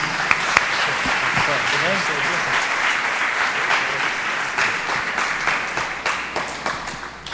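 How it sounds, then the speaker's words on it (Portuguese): A church congregation applauds the Lord after worship, dense steady clapping from many hands filling the room, loud and continuous, fading slightly at the end. "Vamos aplaudir ao Senhor mais uma vez"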